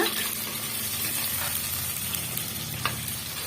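Small onions sautéing in a pan for a bitter gourd tamarind gravy, a steady close sizzle and frying crackle with occasional stirring scrapes, continuous with no talk.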